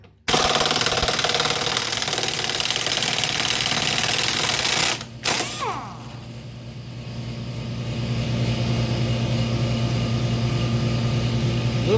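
Pneumatic impact wrench running at 80 psi on the idler arm bolt of a 1984 Mercedes 300SD W126, a loud sustained hammering rattle that stops briefly near five seconds, then settles into a lower steady compressor-like hum.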